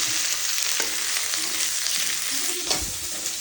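Vegetables frying and being stirred in a pan with garlic and onion, a steady close sizzle with a few scraping stirs of the utensil, no talking.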